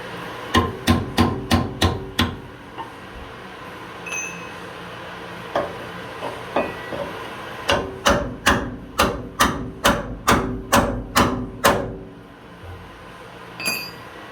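A hammer beats rivets on a Ford Ranger leaf spring hanger with loud, ringing metallic strikes. A quick run of five blows comes first, then scattered lighter taps, then a long steady series of about a dozen evenly spaced hits.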